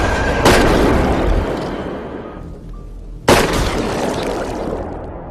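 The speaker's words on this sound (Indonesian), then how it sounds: "terdengarlah suara tembakan yang berhasil membunuh Ted dengan seketika" Two sharp, loud gunshot blasts in a film, each followed by a long decaying echo, the second shot about three seconds after the first.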